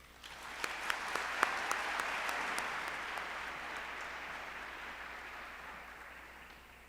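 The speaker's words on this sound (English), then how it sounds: "Please, let's give them a round of applause." An audience applauds at an MLK tribute and celebration, the clapping swelling quickly, holding steady for several seconds, then slowly tapering off.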